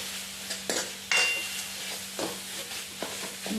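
Chilli masala being stirred in a pan for a val bean birda curry: scraping spoon strokes and clatter against the pan at irregular intervals, with a soft sizzle underneath, close and moderately loud, no talk.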